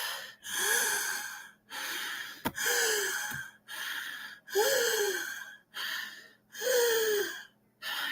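A person imitating a baby gasping for air, with repeated loud, close, strained gasping breaths arriving in a steady rhythm about once a second.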